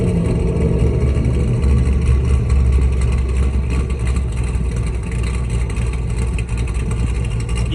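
A 430 hp LS2-powered sports car engine revving loudly and steadily, a dense mechanical roar that holds close with slight swells in intensity and no talk over it.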